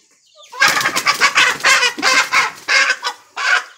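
Loud, close clucking and squawking from large Goliath chickens on a poultry farm in Africa, in rapid bursts, several birds calling over one another with short pauses between.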